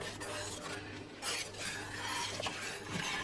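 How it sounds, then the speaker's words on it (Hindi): Custard being stirred into boiling milk in a pot, a steady close scraping and swishing of the spoon against the pot with a soft bubbling hiss underneath and no talking. "साथ साथ आपने इसे डालना है और साथ ही आपने इसे स्टर करना है ताकि इसमें लम्स ना बने।"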